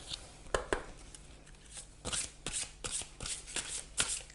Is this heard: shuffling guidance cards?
yes